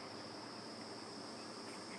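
Steady, continuous high-pitched buzzing drone of insects, like cicadas, constant throughout with no pauses, moderately loud in an outdoor setting.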